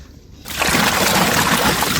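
Water starts rushing and sloshing on a boat after a quiet half-second, then flows loudly and steadily to the end.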